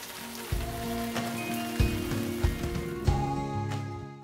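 A hailstorm rattles down in a dense patter of impacts, with a few sharper, louder strikes standing out from the steady wash.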